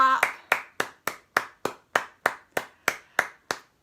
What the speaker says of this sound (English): Oh, I think we should all give ourselves a big clap